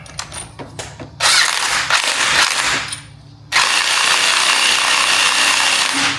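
A rented spring compressor is tightened by power tool on BMW X5M coil springs, with bursts of loud close whirring and grinding separated by brief pauses and light metallic taps.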